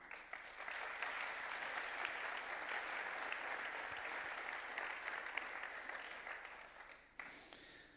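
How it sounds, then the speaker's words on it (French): Sustained audience applause in a debate hall welcomes a guest onto the stage, a dense steady clapping that holds for several seconds before dipping slightly near the end. "Merci d'accueillir et d'applaudir Tariq Krim."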